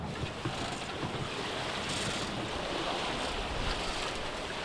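A sailboat cruises fast through open sea waves off Paxos in strong wind of up to 18 to 20 knots, with constant rushing water and heavy wind buffeting the microphone throughout, loud and unbroken, with no talk.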